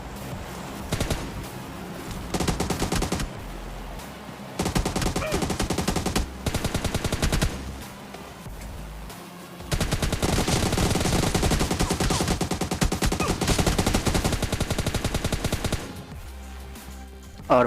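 In PUBG Mobile Lite, automatic gunfire rattles in long, rapid bursts separated by short pauses, loud and close, with dense volleys of shots near the end.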